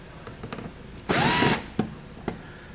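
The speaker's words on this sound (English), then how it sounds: "We're going to use a 7mm socket now to remove the fasteners that you see located there." A power ratchet or drill with a 7mm socket spins for about half a second, removing fasteners on a 2011 Jeep Patriot, with light metallic clicks and taps before and after, close and fairly loud.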